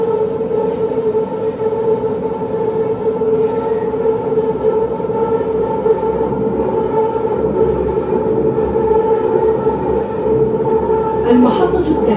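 A driverless automated metro train runs steadily with a constant humming drone and rumble from inside the carriage, a faint squeal and rattle near the end.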